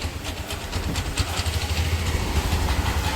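An auto rickshaw engine idles at a roadside rickshaw stand near Panvel railway station, a close, steady chugging putter with rhythmic pulses and no talk over it.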